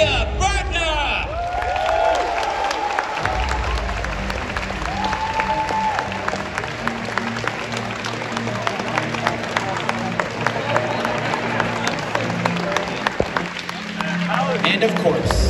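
A large arena crowd at a Pokemon trading card game championship final applauds and cheers a finalist. Loud sustained clapping is mixed with whoops, and music and an announcer's voice run underneath.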